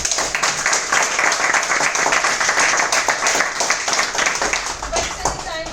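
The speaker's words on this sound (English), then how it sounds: "So let's have a huge round of applause for that." Loud, dense applause from a speech-contest audience, steady and sustained throughout with a slight fade near the end.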